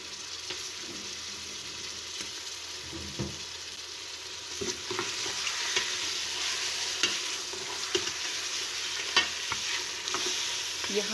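Beef sizzles and fries in a pot for a curry made with bottle gourd, with a constant hiss broken by repeated scraping stirs, heard up close.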